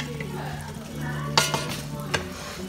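Crawfish and shrimp étouffée simmering in a pot, a low sizzle under a couple of sharp clinks of a utensil against the pot, with faint background hum and no clear speech.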